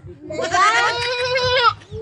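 A goat lets out one long, wavering bleat close by, loud and nasal. Faint low background noise pulses underneath.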